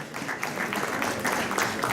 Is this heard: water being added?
no